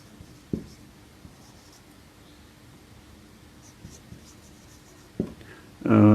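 Chalk or marker writing on a classroom board during a lesson, heard as soft, faint scratches and taps spread over several seconds, with a louder knock or handling noise at the end.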